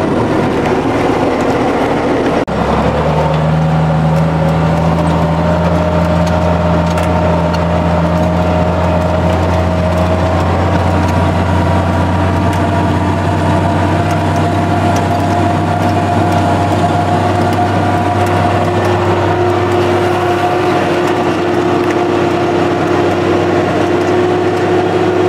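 A loud, steady tractor engine rumble idles close by on a farm, a deep constant drone with tonal hum layered on top after a sudden start, running continuously without pause.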